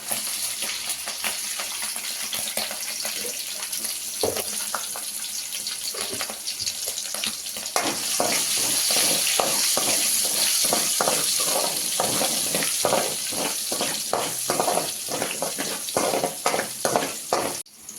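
Green chillies sizzle in hot oil in a pan for paneer fried rice, a steady crackling fry that grows louder and busier midway, with sharp spattering pops, no talk.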